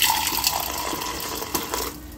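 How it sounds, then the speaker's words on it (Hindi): Milk poured into a container at home, a steady liquid trickle and splash lasting a couple of seconds, close and fairly clear, fading near the end. "और अब इसमें डाल देती हूँ दूध।"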